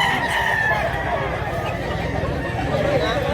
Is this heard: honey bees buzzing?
no